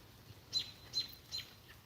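Three short, high bird chirps spaced about evenly apart, fairly faint over a quiet outdoor background.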